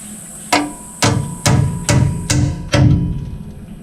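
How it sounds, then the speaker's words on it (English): Six sharp metallic strikes of a hammer on a center punch mark drill hole centers on racecar metal parts, evenly paced about half a second apart, close and loud with short ringing decay. "I'm going to mark the centers with a center punch, just so my bit doesn't slip around on me."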